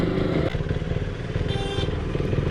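A KTM Duke 390 motorcycle engine pulls hard on the Delhi Meerut Expressway, a loud, close, buzzing drone with pulsing throttle under wind rush, no talk heard.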